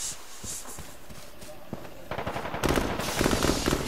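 Rapid gunfire from a multiplayer video game shooter swells over the last second and a half, loud, dense bursts that build from quieter game noise and distant shots earlier on.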